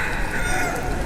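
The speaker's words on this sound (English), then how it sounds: "There's a hen or a cockle or something." Hen or rooster on a street in Kuala Lumpur, Malaysia, giving a short, loud, nearby call that fills the brief moment.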